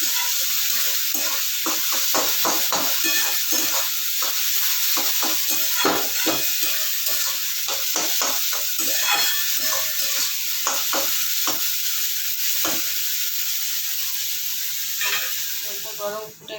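Spices and turmeric are stir-fried in a pan for hilsa fish curry, a constant hissing sizzle with repeated scraping and tapping strokes of a spatula, close and fairly loud.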